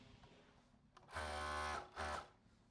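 A sewing machine stitches the side seam of a dress in two bursts, a longer run followed by a short one, close and steady with a low motor hum and no talking.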